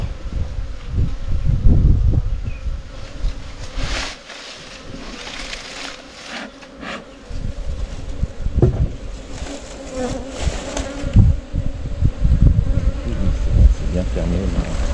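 Honeybees buzzing at an open beehive during an apiary visit in September, a dense, steady drone close by with brief rustling and handling noises mixed in, no talk.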